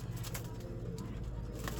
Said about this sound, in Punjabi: ਇਹ ਵੀ ਕਬੂਤਰ ਦੇਖ ਲਓ ਜਨਾਬ।